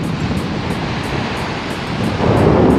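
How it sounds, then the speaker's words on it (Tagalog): Sea waves wash onto a white sand beach at Ras Tanura, Saudi Arabia. A continuous roar of surf is mixed with wind buffeting the microphone, and a louder wave surges in near the end. "So yun yung dagat dito mga kababayan."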